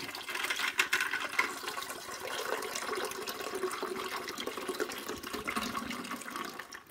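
Keurig descaling solution glugs and splashes as it is poured into the water reservoir of a Keurig B70 Platinum brewer, a continuous close liquid rush lasting several seconds.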